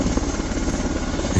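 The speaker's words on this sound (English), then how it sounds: "He sees a couple of helicopters that are coming down" Military helicopters come down to land during a drill in Charlotte, their rotors giving a loud, close, continuous throbbing chop with no talk.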